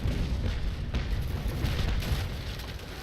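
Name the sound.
ship cannons firing chain shot in video game Naval Action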